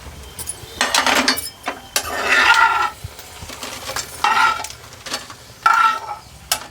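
Seasonings frying in hot oil in a pan for a fenugreek-leaf chutney, heard as close, bursty crackling and sizzling in several surges, with a few faint clinks of stirring between them.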